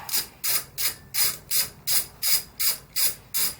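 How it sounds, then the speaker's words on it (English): A ratchet wrench works the shifter bolt loose on a 2017 Kawasaki Z650, giving nine evenly spaced, close clicking strokes in a steady rhythm with no talking. "Now we're going to take the shifter off."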